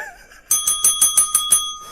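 Bell pressed rapidly about seven times in a quick even run, bright ringing strikes close and loud after a brief quiet moment.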